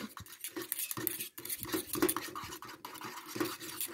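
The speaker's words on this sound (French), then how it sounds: "on continue toujours à brasser" A homemade hand cream mixture is stirred steadily as it cools, giving continuous close scraping and clinking of a utensil against its container, with no talking.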